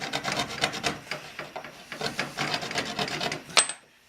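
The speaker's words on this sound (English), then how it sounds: "So I'm scoring this piece of cane." A blade repeatedly scrapes across a piece of cane, scoring it before snapping, in quick rasping strokes close by, ending with a sharp click.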